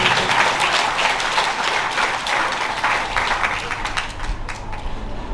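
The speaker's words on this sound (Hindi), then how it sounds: "पंचोपचार के उपरांत तालियां हो गई जोर से।" A group claps loudly at a Hindu children's religious program after a worship ritual, the dense clapping holding steady before thinning toward the end.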